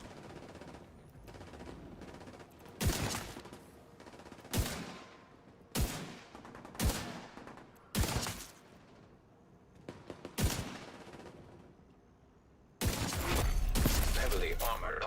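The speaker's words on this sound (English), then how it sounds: "Stop shooting me." Repeated bursts of video game gunfire, five or six sharp volleys spaced a second or so apart, then a sustained loud barrage at the end, over a steady background of game sound.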